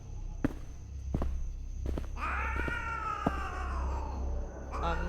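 A cat gives one long, wavering meow outdoors on a street, preceded by a few sharp thuds like footsteps.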